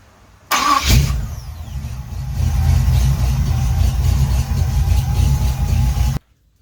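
A 1974 Oldsmobile Omega engine cranks and fires, then settles into a steady, loud rumbling idle as it warms up, close by with no talking.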